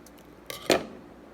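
Scissors snip through a noodle packet in two quick, faint cuts, the second slightly louder, in an otherwise quiet room.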